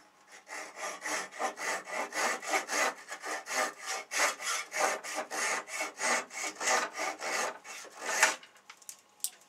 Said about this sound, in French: ça se coupe très facilement et ça n'abîme pas le bois